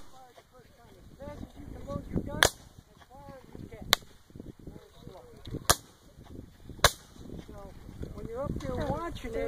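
Civil War reenactors of the Georgia 44th fire muskets in a demonstration, four sharp, loud, separate reports spaced a second or two apart, while someone talks throughout and birds chirp in the background.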